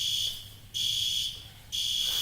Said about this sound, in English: More fire alarm time